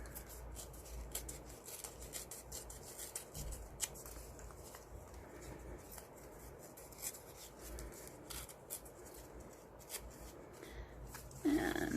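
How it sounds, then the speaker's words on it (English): Dictionary paper ripped by hand around its edges makes soft, intermittent close tearing and rustling in short bursts, quiet overall, ending with a louder handling rustle. "I will rip around the outside of it"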